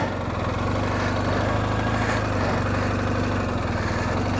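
Adventure motorcycle circling a crazy-8 pattern around cones, a steady low engine drone with a regular throbbing pulse, fairly close and even in loudness throughout.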